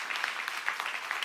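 Church congregation claps to welcome newcomers, a brief spell of scattered, moderately quiet applause heard without speech.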